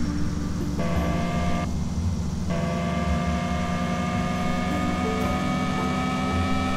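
A video game car engine in Car For Sale Simulator hums and whines continuously with shifting pitch, a steady synthetic-sounding motor drone with no talking.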